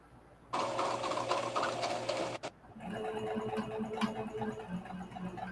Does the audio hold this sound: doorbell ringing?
no